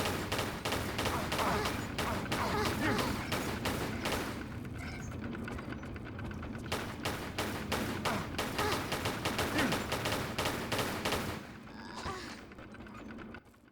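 Rapid gunfire in the Tomb Raider 4 Remastered video game, dense bursts of shots and thuds firing in quick succession, loud and near, with brief pauses before the shooting tails off near the end.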